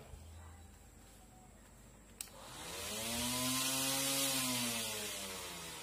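A small Xenon CDGT 360 electric grass trimmer clicks on and its motor whines up to a steady high-pitched hum, running close and fairly loud.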